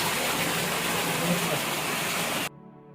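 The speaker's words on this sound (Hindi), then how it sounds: "और ये कंटिन्यूसली 24 घंटे आता रहता है पानी" Water gushing continuously from the Gomukh spout at Chittorgarh fort in Rajasthan, a steady broadband rush that holds constant before cutting off abruptly near the end.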